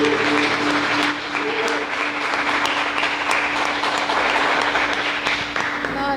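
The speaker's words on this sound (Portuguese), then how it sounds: "Aplauda ao Senhor nessa manhã mais uma vez." A church congregation applauds during a Sunday morning worship service, a steady wash of clapping from many hands sustained throughout, with a low hum underneath and no clear speech over it.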